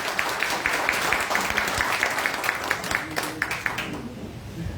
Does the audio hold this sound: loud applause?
yes